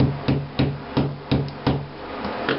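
Scored sheetrock is punched in by hand, giving a steady series of about seven dull, close thumps spaced evenly apart, each with a brief crack as the board gives way.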